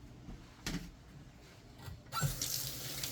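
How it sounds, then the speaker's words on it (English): Mushrooms being rinsed under a running kitchen tap, a steady wash of water into a sink with a couple of louder splashes and a stronger flow toward the end. "First of all, we have to wash them."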